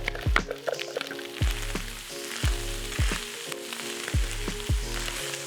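Vegetables go into a pan of browned, dried-out minced meat for a bolognese sauce, giving a steady close sizzle. Repeated low knocks and scraping run through it as the pan's contents are stirred.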